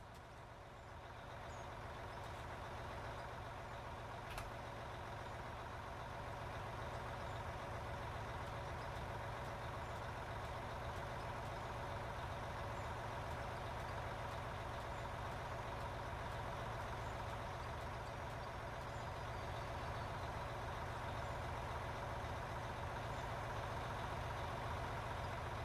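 A diesel engine idles steadily in the Out of Ore game in the frozen north, a continuous low rumble with an even drone that holds unbroken throughout, moderately quiet and alone.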